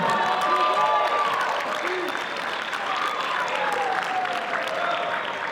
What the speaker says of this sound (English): let's make some noise for these gentlemen